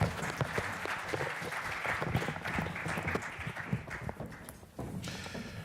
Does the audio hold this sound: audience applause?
yes